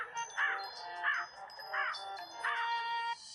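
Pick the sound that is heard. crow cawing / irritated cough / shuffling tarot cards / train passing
crow cawing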